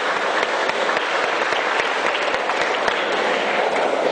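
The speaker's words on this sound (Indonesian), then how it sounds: "Tepuk tangan sekali lagi kata Fazal." An audience at an Islamic religious lecture breaks into applause, a loud, dense, continuous clapping from a large crowd that stays steady throughout without speech.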